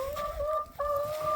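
Rescued ex-battery hens vocalise in a steady, drawn-out clucking tone that dips briefly midway, then resumes close and clear with no talking over it.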